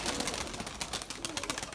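Flying pigeons make a busy, close flutter of wings and soft calls in quick, uneven bursts throughout.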